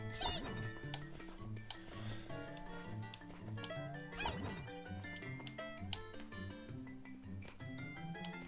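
A dog in a video game yips and barks in short bursts, set against game music and busy in-game effects.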